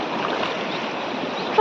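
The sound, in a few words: wading across a deep river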